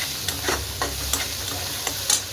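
Green chillies sautéing in hot oil with turmeric in a pan, a steady soft sizzle punctuated by a few light stirring scrapes and taps, close and alone with no voices.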